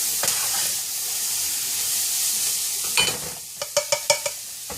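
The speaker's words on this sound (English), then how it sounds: "Let that cook for a little bit. Just kind of like just warming up the tomato" Tomato sizzling and frying in a pan while papas rancheras are prepared, a steady hiss with a stir around the three-second mark and a quick run of sharp spatters and pops near the end; no talk.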